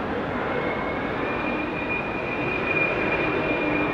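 A jet aircraft taking off from runway 27 right at London Heathrow Airport, heard as a steady, loud broadband engine roar with a faint high whine, sustained throughout.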